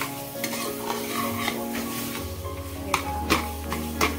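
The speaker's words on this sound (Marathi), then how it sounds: "आता आपण व्यवस्थित मिक्स करून घेऊया हा मँगोचा गर।" A spoon stirs mango pulp into semolina in a pan, making a continuous scraping, churning sound with a light sizzle underneath and a few louder knocks toward the end, with no voices.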